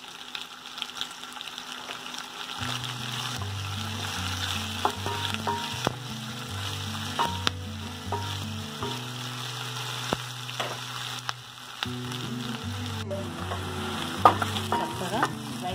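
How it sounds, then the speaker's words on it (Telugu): Chopped ginger and garlic fry in a pan with a steady, close sizzle and occasional stirring scrapes, over continuous background music. "చక్కగా ఫ్రై చేస్తున్నానండి."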